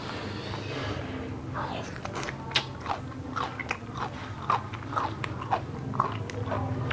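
Someone eats a Thai long bean salad by hand, the pounded beans crunching loudly in close, repeated bites and chews, with no talking over the eating.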